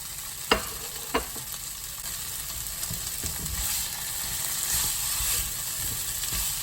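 Lemongrass sizzling and frying in a pan for spicy budget sardines, a steady hiss of oil with two sharp clinks of a utensil near the start, no talking.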